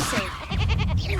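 Sheep bleating in the video game Hogwarts Legacy, a short, wavering bleat rising over a background of game sound and a player's voice, close and fairly loud.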